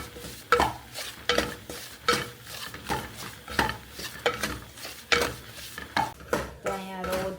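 Semolina roasting in ghee in a pan is stirred steadily with a spoon, rhythmic scraping strokes about once a second, close and clear, with a faint sizzle beneath and no talk.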